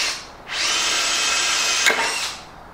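A power drill whirs steadily for about a second and a half, bores a hole into a wall with a brief jolt near the end, then winds down.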